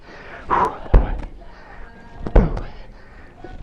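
Two heavy medicine ball slams during a wall workout land about a second and a half apart, each a sharp, close thud after a brief rush of effort.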